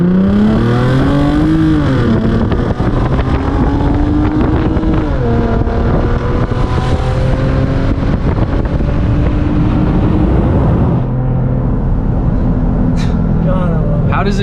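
A Lexus GS350 F Sport sedan accelerates hard from a green light, heard from inside the cabin. The engine note climbs and drops through several gear shifts under constant loud road and wind roar, then eases near the end.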